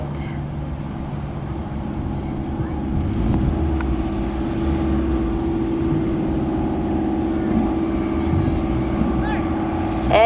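A 1997 Honda Del Sol drag race car idles and creeps in the staging lanes at a drag strip, a steady loud engine rumble throughout with a brief rise near the end, announcer-style talk over it.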